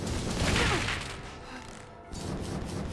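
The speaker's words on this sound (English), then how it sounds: "that little explosive attack thing that he was doing to me, little fireworks" Small firework-like explosive attack from an enemy in the Dragon's Dogma video game: a loud burst of crackling, popping blasts that swells, dips briefly into near quiet, then resumes with more crackle.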